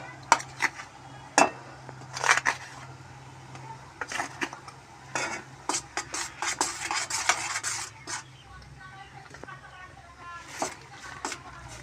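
Rice flour stirred into boiling water in a metal pot for spicy pitha, with repeated clinks and scrapes of a spoon against the pot in irregular bursts, close and fairly quiet.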